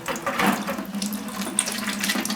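Water runs and splashes steadily from a leaking vehicle water pump during a hydraulic fan and water pump removal, a close, continuous watery hiss without talk.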